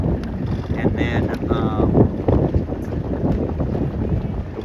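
Steady wind buffets the microphone at a youth sailboat regatta blowing about ten knots, with a continuous broadband rush and low rumble throughout and faint voices underneath.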